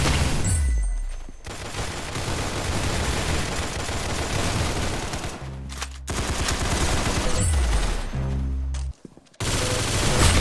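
Rapid automatic gunfire from Roblox Arsenal, loud and dense with continuous bursts, brief pauses near two and eight seconds, and low booming hits underneath.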